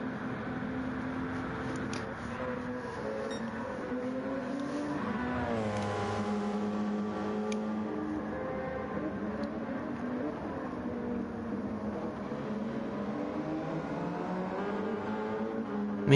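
Audi R18 race car lapping Daytona in a racing video game, its engine rising and falling through gear changes and revs, with a passing sweep in the middle, steady and moderately loud.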